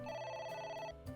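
A telephone in a video game rings with a bright electronic trill that repeats in short bursts and then stops. No talk is heard over it.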